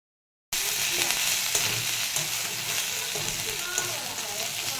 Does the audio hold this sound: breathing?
no